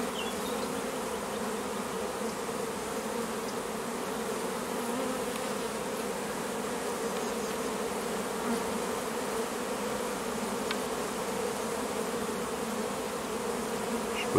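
A large honey bee swarm buzzes loudly and continuously, a dense, even drone of countless wings close by, with no talking.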